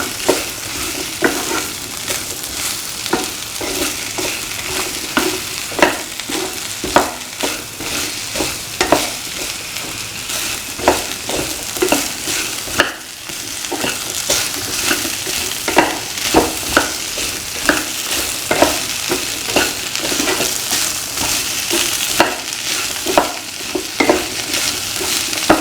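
Plantain cashew stir fry with cream, shallots and Kashmiri chili sautéed in a pan: a steady sizzle with repeated scraping and stirring clacks of the utensil, close and continuous, with no talking.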